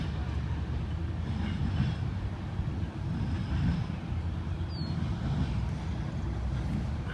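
A CSX freight train rolls past at Fostoria with an old B&O caboose, a steady low rumble of wheels and cars, continuous and fairly close, with a brief faint squeal partway through.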